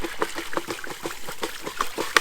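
Fresh water is poured by dipper into a gold prospecting cradle at a creek, making uneven close splashes and trickles in quick bursts with small bright drips throughout.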